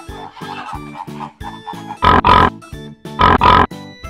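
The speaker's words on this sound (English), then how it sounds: "Pig." A pig grunts and oinks in a run of short, loud snorting bursts, with two harsher squeals standing out, all close and clear over a soft musical backing, with no talking.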